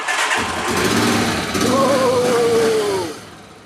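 A twin-cylinder motorcycle engine cranks and catches, then revs up with a rising whine before settling, loud and close.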